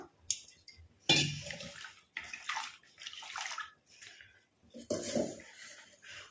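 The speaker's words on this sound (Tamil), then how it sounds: "இப்போ இதில் வந்து தண்ணி ஊற்றி நம்ம வாஷ் பண்ணிட்டு எடுத்துக்கலாம்." Flowers mixed with a few spoonfuls of powder are rinsed by hand in water, giving intermittent close sloshing and splashing between stretches of a person talking.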